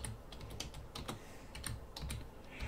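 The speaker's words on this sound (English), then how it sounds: "So you click in here and you just type Hamtramck." Rapid, irregular key clicks from typing on a Chromebook keyboard, close and fairly quiet, continuing steadily for a few seconds with no voice.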